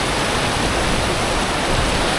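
A mountain river stream rushes steadily past a small bridge in Zanskar, a loud, continuous, even roar of flowing water with no voices.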